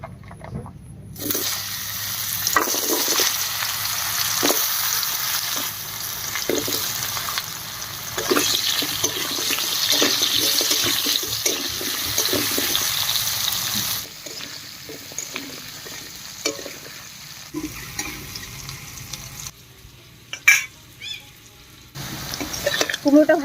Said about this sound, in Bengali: এবার মিষ্টি কুমড়োগুলো এই তেলের মধ্যে ভেজে নেব।